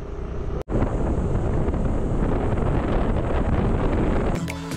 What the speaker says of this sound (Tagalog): Kaya pala mahangin dito sa Ilocos eh.